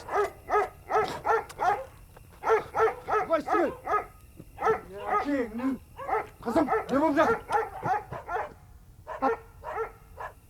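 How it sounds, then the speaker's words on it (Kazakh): Several dogs bark and yip in rapid, overlapping bursts, snarling and whimpering as if scuffling nearby, with a person speaking briefly among the noise. "жаңағы иттердің ұрысы жаман еді"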